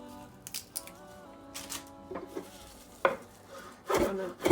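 A knife roughly chopping fresh parsley on a board, with a few scattered, close raspy strokes that come in uneven bursts, quiet and without speech.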